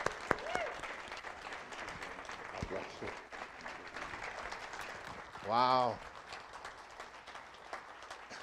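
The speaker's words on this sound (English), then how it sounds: "Everyone, please join me in a big round of applause to welcome Reverend Dr." A church congregation applauds to welcome a speaker, a sustained wash of clapping from a sizable crowd with a few voices calling out over it, followed by a brief tonal sound near the end.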